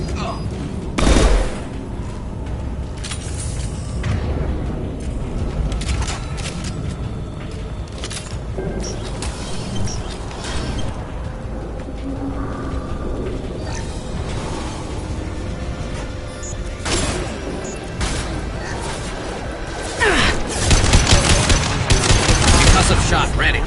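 Rifle fire in the video game Mass Effect 2 Remastered, repeated bursts of sharp shots and booms scattered through a busy combat scene, heaviest near the start and end, with voices speaking amid the fighting.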